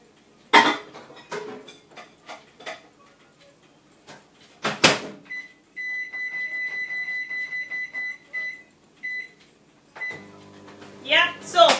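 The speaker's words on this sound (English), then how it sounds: "And I'm going to put that in the microwave for 10 minutes." A microwave oven runs while heating covered rice: door and cupboard knocks at the start, then a steady electric hum with a beeping tone pulsing over it, followed by more clattering near the end.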